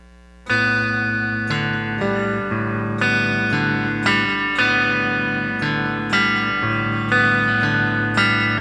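Slow, steady fingerstyle guitar plucking, thumb first, notes ringing out one after another in an even rhythm, with a sustained low tone beneath and a warm, effected sheen.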